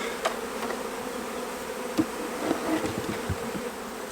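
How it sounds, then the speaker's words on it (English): Dense, continuous buzz of a mass of honeybees crowding at a hive entrance, steady and close, with a few louder individual bees passing near. "there's masses of bees that are trying to get in the entrance below"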